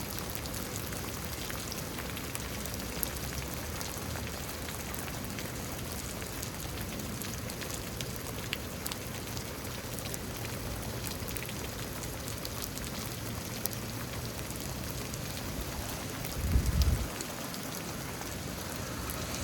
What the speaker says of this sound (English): looks like we're slowing down on the rain here.